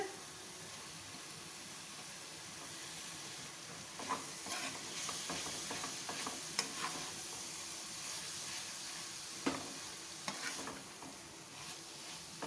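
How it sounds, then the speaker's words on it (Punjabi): Boiled mashed potatoes being stirred into a masala frying in a pan, for stuffed snake gourd: a faint, continuous sizzle with intermittent scraping and tapping of a spoon against the pan. "ਚੰਗੀ ਤਰ੍ਹਾਂ ਮਿਕਸ ਕਰਕੇ 1 ਤੋਂ 2 ਮਿੰਟ ਲਈ ਪਕਾ ਲਾਂਗੇ"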